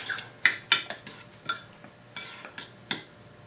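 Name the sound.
stirring fire roasted salsa in a pot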